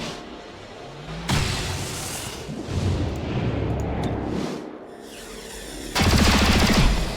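Gunfire and explosions from the video game XCOM: Chimera Squad, with bursts of loud blasts and rumbling impacts, a heavy burst near the start and another sharp blast toward the end, no talk heard.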